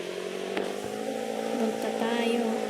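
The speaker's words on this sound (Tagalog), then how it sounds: "Motor na lang tayo" A motorcycle engine in the Roblox game Brookhaven drones steadily at a constant pitch throughout, heard alone with no talk.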